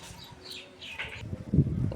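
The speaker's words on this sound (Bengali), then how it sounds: "পাখি কিচিরমিচির করছে" Birds chirp around a house rooftop in the afternoon: a few faint, brief high chirps, then a louder rustle of movement near the end.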